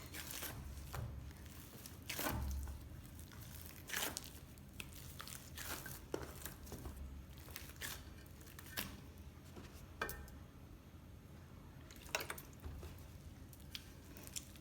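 Bare hands knead dough by hand, giving close, irregular soft squishes, presses and light slaps in an uneven rhythm, quiet and with no talking.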